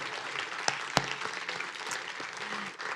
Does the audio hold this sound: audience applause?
yes